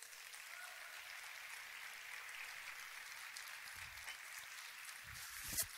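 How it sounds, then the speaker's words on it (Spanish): A church congregation applauds during a sermon, a steady wash of clapping from many hands spread across the room, holding even throughout with a brief louder swell near the end. "Da un aplauso a Jesús."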